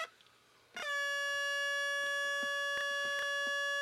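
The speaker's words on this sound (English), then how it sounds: "Oh, no, that would get annoying," A loud, steady electronic buzzer tone from a tag game on an RCA Studio II video game console starts abruptly after a short quiet stretch and then holds unbroken, with faint clicks beneath it.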